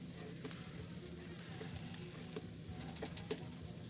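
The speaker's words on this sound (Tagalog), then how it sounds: "isunod na natin ang bawang. Halo-haluin natin para lumabas ang kanyang bango" Garlic sizzles in a pan while being stirred, a soft steady crackle with scattered small pops and occasional scraping clicks, fairly quiet and close.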